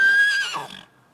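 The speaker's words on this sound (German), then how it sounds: "Der Zweithengst, der ist ein bisschen aktiver, der ist auch noch ein bisschen jünger, wiehert, geht ein bisschen umher" A young second stallion from a horse herd gives a single loud, high whinny that quivers and trails off within about a second, heard clearly with no talk over it.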